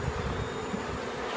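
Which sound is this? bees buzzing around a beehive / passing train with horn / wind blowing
bees buzzing around a beehive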